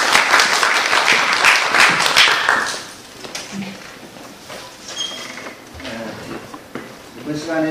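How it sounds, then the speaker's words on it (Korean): Applause from a seminar audience for a speaker's second session, loud and dense in a sustained burst before fading into lighter scattered claps, with a voice speaking over the tail. "박수로 부탁드리겠습니다. 박수!"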